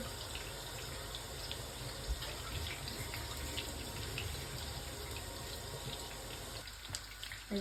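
Tap water running into a kitchen sink while dishes are washed: a continuous rushing stream, close and steady, with a faint clatter toward the end.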